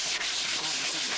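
Sandpaper scrubs steadily over old, worn dancheong paintwork on traditional Korean woodwork, giving a close, continuous abrasive rasp with no pauses.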